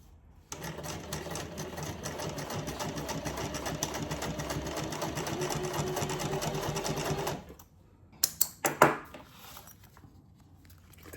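Steady, fast-running sewing machine stitching a leather satchel prototype, a continuous close mechanical whir for several seconds, then it stops and a few sharp clicks and knocks follow in near quiet.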